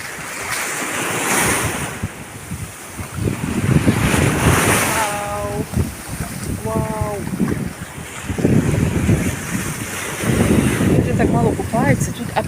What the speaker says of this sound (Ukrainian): Тут вода б'є біля берега